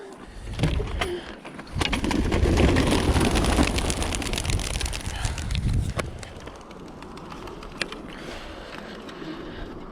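Birmingham Roller pigeons of a kit burst out to fly on a calm, sunny winter afternoon, with a rush of flapping wings and scattered sharp wing claps that surge, then thin to a lighter flutter.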